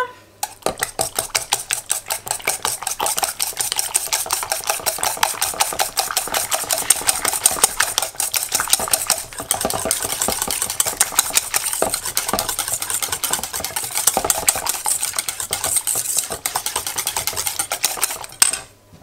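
A spoon stirs half a teaspoon of dried porcini into a savoury mushroom tart filling, giving steady, rapid scraping and clinking against the bowl close by, with a constant low hum underneath and no talking.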